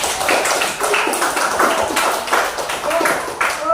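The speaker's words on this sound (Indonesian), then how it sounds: "Oke, tepuk tangan kita semua." A sixth-grade class claps their hands together in a rhythmic patterned clap, sharp repeated bursts with a voice talking over them.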